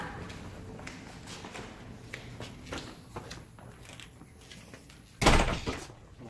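A house's front door swings open and shuts during a home inspection, a single loud, close thud landing near the end after quieter handling and shuffling noises.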